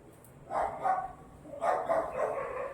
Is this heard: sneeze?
no